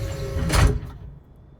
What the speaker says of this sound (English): Go ahead and get our cargo door closed up there